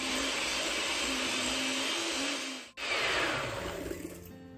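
Electric mixer or stand mixer whirring steadily while whipping meringue for macarons, a constant motor drone that briefly cuts out, then resumes with a rougher tone.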